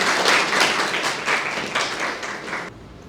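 A school audience claps together for about three seconds in a fairly close, full burst of applause that stops abruptly.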